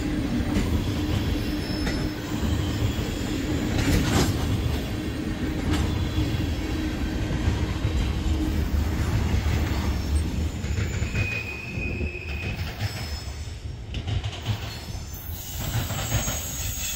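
A heavy train fully loaded with denatured alcohol rolls steadily past nearby, a continuous loud rumble of wheels on rails with occasional squeals and clanks.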